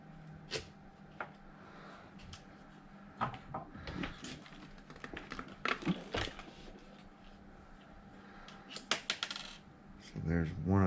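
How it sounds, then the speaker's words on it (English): A small screw drops out of the bottom of a Traxxas Summit RC truck during a two-speed servo replacement, giving a few light metallic clinks among scattered handling clatter and tool sounds on a workbench. "there's one of the screws just fell out the bottom"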